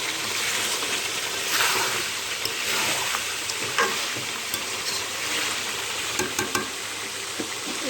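Meat and potatoes stirred and frying together in a pan, a steady loud sizzle with scattered clacks of the stirring utensil, close up and without speech.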